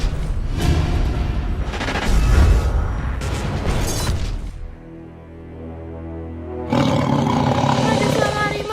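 A tiger roaring in a dramatic horror scene, a deep, loud, sustained growl layered with booming rumbles and music-like swells, dipping briefly before surging back at full strength.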